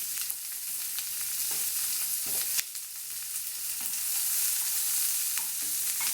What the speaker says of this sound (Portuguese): Eu vou dourar essa cebola,